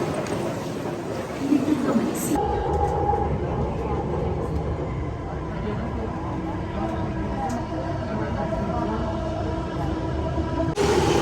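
A Bangalore metro train on the line toward Lalbagh station rumbles steadily and loudly, with a continuous rolling roar throughout and a brief clatter near the start.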